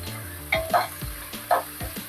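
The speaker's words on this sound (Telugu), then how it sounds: "నేను పుదీనా వేసి 1 నిమిషం పాటు ఇలా కలుపుకుందామండి" Mint leaves stirred into browned fried onions in a pan for chicken biryani, a close hissing sizzle broken by a few distinct scraping strokes of a spoon against the pan.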